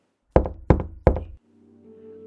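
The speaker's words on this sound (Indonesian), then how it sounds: "pintu tadi diketok lagi." Three sharp knocks on a door, close and loud in quick succession, followed by a faint low hum in an otherwise quiet room at night.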